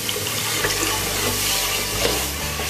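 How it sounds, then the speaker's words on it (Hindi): Water pours steadily into roasted gram flour in a cooking pot for kadhi, a continuous close splashing gush without pause and with no voices. "तो अब हम इसमें पानी डालेंगे"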